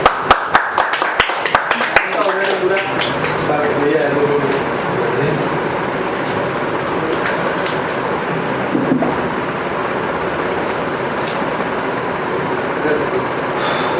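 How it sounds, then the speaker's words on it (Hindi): Hand clapping, a quick burst of sharp, close claps in the first two seconds, followed by a steady background murmur with people talking. "तब तक आप ताली बजा दीजिए"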